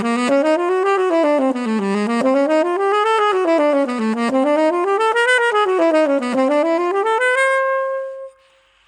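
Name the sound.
jazz major scales played ascending and descending in alternating half steps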